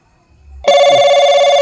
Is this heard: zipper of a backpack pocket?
no